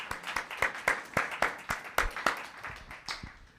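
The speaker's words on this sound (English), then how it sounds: "So let's give Jacob a big round of applause for his achievements." Small audience at a town council meeting clapping in a loose, steady rhythm of distinct nearby claps, fairly faint, with no talk over it.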